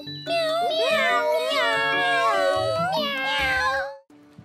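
A child imitates a cat with a run of drawn-out, high-pitched meows, one after another, loud and close, with no other sounds underneath.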